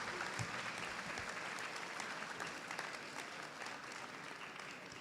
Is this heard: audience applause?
yes